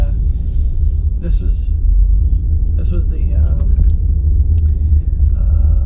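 Steady low car rumble while driving in Baltimore near Morgan State University, a constant engine and road drone with someone talking over it.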